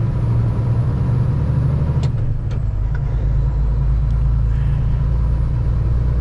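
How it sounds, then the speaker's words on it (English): Heavy, constant engine rumble inside a truck hauling an oversized load on a small-town road, with vehicles passing close by as brief whooshes over the loud drone. "Two vehicles are passing."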